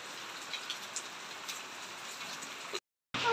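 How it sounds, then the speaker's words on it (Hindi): Heavy rain pours down during the rainy season, a dense, steady hiss of drops with scattered louder splashes, continuous and close, briefly cutting out near the end. "देखो मीह किन्ना होन तेज फिर हो गया, बारिश का मौसम"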